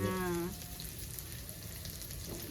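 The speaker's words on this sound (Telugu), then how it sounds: "వీటిని కొద్దిగా ఫ్రై చేసుకుందాం సపరేట్ తీసుకొని" Fish pieces frying in oil, a constant close crackling sizzle. A short tonal sound opens it before the frying carries on alone.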